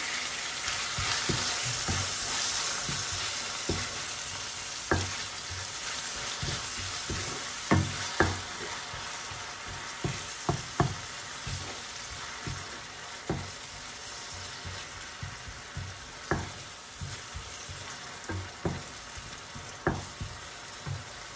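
Onions fry in a pan with salt added, a continuous close sizzle broken by repeated light scraping and stirring knocks at an irregular rhythm, with no speech.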